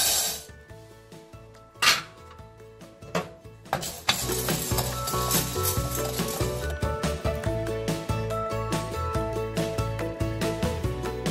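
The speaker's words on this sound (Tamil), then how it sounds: "உளுந்து நல்லா பொன்னிறமா வறுபட்டுச்சு" Urad dal roasting in a pan for Madurai kulambu podi, heard as scattered scraping and clinking of a spoon against metal, then a steady busy rattle of stirring and tapping.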